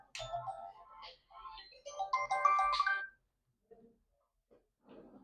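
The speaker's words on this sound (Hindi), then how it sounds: "ये फिर मुझे कौन फोन कर रहा है यार?" A phone ringtone plays a bright, tonal electronic melody for about three seconds at moderate volume in a quiet indoor room, then stops, leaving near silence with a few small soft sounds.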